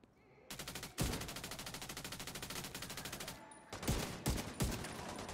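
Video game gunfire clatters in a long rapid automatic burst, followed by a few separate heavy shots near the end. It is loud and close, with no talk over it.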